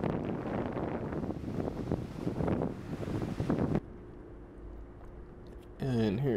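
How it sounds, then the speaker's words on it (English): Strong wind and massive waves on the Oregon coast at sunset: a loud, roaring broadband rush with surging swells, then a sudden drop to a quieter hiss before the blustery noise picks up again. "But here we go again with more massive waves and just a sunset. Very windy, very cold, very wet."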